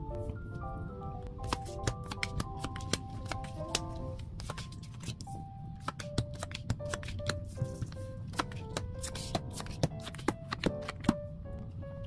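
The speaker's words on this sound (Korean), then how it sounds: "그럼 카드 오픈해 보도록 할게요." Tarot cards slide, snap and flip over one after another in quick, crisp rustles and taps, close and continuous above soft background music tones.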